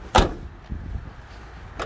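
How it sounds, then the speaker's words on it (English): Near, sharp thud of a car door shutting with a solid clank on an old Lincoln Continental parked in a lot, followed by quiet shuffling and a fainter second knock. "I love the solid clank of the door."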